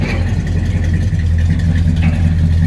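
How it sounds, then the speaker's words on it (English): A 1971 Chevrolet Chevelle engine with a tuned carburetor and dual exhaust idles with a deep, steady rumble from the exhaust, close and continuous throughout. "It's got a great sound to it, dual exhaust. You can hear that."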